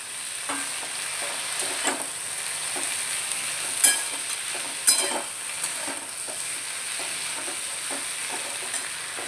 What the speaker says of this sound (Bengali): এবারে এইখানে আমি যে টমেটোগুলো কেটে রেখেছিলাম এটা দিয়ে দিলাম।